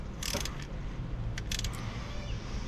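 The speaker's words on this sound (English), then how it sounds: "Just tightening up those fan bolts." Faint metallic clicks and ratchet-like ticks sound as fan bolts are tightened on a car engine in a home garage, a short burst early on, then a quick cluster of clicks after a pause.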